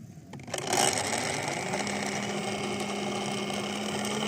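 A solar-powered 950W BLDC borewell pump motor starting up with a short clatter, then running as a steady mechanical whir with a constant tonal hum, close by and alone.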